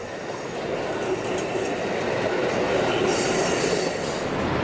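Amtrak passenger train rolling past on coastal tracks at Del Mar, California, a loud steady rumble of wheels with faint squeal and clatter, close by and without voices.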